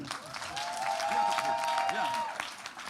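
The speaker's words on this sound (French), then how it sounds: "Je vous demande d'applaudir le docteur parfait Salébongo." Audience applause for a doctor at an evening campaign gathering, a moderate wash of clapping with a few cheers and overlapping voices, while a musical tone rings through the middle.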